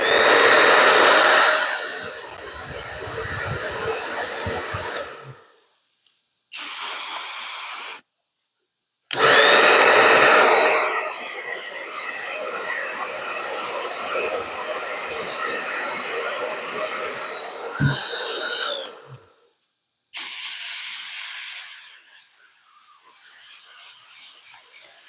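A loud dryer blows in long bursts to dry a fresh light coat of refinish paint, roaring steadily, cutting off to silence, then restarting several times, with near hissing airflow throughout.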